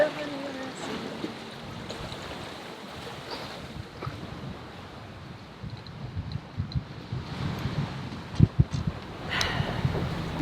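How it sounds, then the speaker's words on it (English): Strong wind at sea aboard a sailboat, a steady broad rush and buffeting against the microphone with water wash, swelling in gusts and occasional knocks near the end. "the winds are pretty strong right now"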